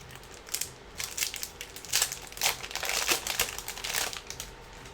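Foil packs of Panini basketball trading cards are torn and crinkled open one after another, with bursts of close, crackly crumpling and ripping and no talking.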